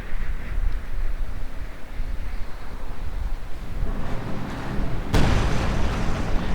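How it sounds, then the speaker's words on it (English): Artillery fire in the video game Company of Heroes 2, heard as low distant booms under a rumbling battlefield wash, ending in one sharp, loud blast near the end. "And a bit of artillery as well."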